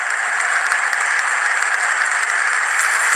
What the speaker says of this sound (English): India fans cheering.